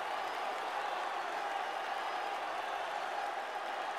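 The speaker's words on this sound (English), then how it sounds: "The crowd is going crazy here at Yankee Stadium." Boxing crowd cheering and applauding at Yankee Stadium, a steady, distant roar of applause and crowd noise that holds at an even level throughout without a break.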